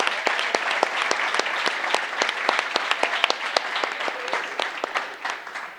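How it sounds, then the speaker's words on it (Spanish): An audience at a leadership talk applauds, a dense patter of hand claps at moderate level that holds steady for several seconds and then fades. "Carlos, un aplauso para la piña."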